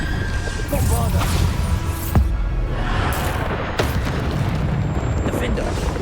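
Explosions of the Bombarda blasting spell in the video game Hogwarts Legacy: repeated loud, rumbling booms and bursts that fill the scene, with a voice speaking over the blasts.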